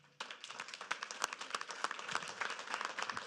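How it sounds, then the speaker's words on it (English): A round of applause at a city council meeting starts abruptly and carries on steadily, a dense patter of many hands clapping at moderate distance with no talking over it. "we should give them a round of applause for sure"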